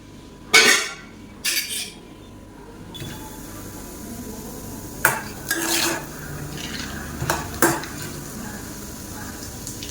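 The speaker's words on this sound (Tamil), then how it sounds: "கடலைப்பருப்பு பொரிஞ்சிருச்சு." Chana dal frying in hot oil on a tawa for potato chutney, with a low steady sizzle under several sharp metallic clinks and scrapes of a spoon against the pan.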